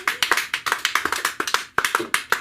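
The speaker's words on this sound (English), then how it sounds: "Keep the applause going for GQ." Audience at a comedy open mic claps by hand, close and loud, with sharp irregular slaps in a quick steady flurry that pauses briefly before resuming.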